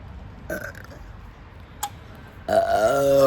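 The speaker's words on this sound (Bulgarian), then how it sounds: "пак ще се оригваме, бате. От кола без захар." Loud, close burps after drinking sugar-free cola: a couple of short eructations, then a long, strong belch that rumbles on for about a second. No talking.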